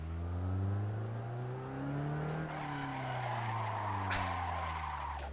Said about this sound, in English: Can I do some handbrake turns?